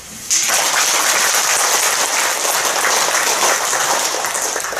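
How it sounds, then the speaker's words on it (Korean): An audience at an alumni association's Buddhist dharma assembly breaks into steady, dense applause that starts abruptly and continues loud and even, with no voices over it. "박수."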